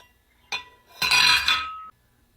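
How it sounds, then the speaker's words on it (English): A gluten-free brownie lava cake is turned out of its pan onto a plate, giving a short clink followed by a louder, sustained clatter and scrape of the pan against the plate, close and without talk. "I'm just gonna take this out of the pan now and flip it onto a"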